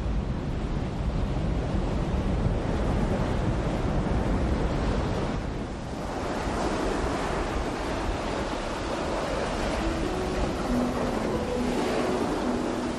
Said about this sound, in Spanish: busqué el descanso y la paz mecida por las aguas del mar